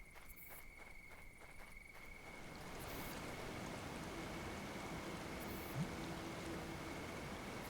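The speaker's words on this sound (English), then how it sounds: "I love the sound of flowing water." Steady rushing of a waterfall in the Children of Silentown video game, a continuous broadband wash that swells after a few seconds and holds at an even level, with a faint high tone running through it.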